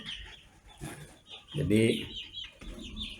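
Free-range village chickens cluck close by with one louder call, while someone speaks over them.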